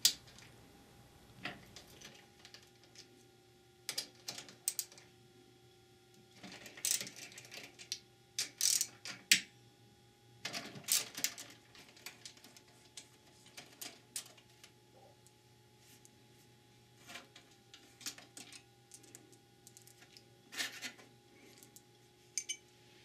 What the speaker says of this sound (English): Use an 8mm socket and ratchet to remove the three short bolts which fasten